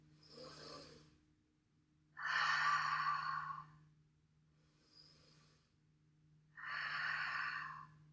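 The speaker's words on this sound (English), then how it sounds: "Take a deep breath into the low belly. Belly fills out. Open the mouth, exhale. Belly draws in. 2 more belly breaths on this side." Deep belly breathing during a yoga flow: two long, loud open-mouth exhales stand out, each lasting over a second, with softer inhales before them, close and alone with no talking.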